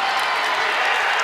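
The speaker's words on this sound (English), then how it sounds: "And listen to this crowd" A college wrestling crowd at a Big Ten match between Michigan and Iowa gives a steady, dense roar of cheering and clapping that fills the whole moment.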